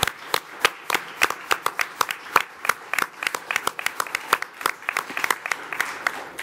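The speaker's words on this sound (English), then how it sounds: "I would like to give them a round of applause" Audience at a US housing department conference on sustainable urban housing claps for a panel, individual hand claps distinct and fairly close, a loose irregular patter that keeps going without talk.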